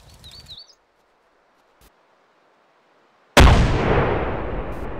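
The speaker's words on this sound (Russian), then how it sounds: "Уже в воздухе гранаты рвутся." Grenade bursting in mid-air in the military shooter ArmA 2: a few faint thuds, then a sudden loud close blast that rolls off in a long, decaying rumble with no talk over it.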